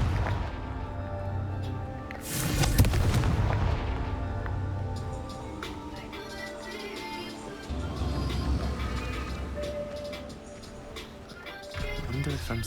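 A Confringo fire spell in the Hogwarts Legacy game bursts with a loud blast partway through, then game ambience and effects carry on at moderate level.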